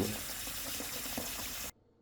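Cold tap water pours steadily into a kombucha brewing jar, a continuous splashing rush that runs close and unbroken before cutting off abruptly near the end.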